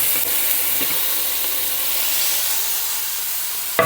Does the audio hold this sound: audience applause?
no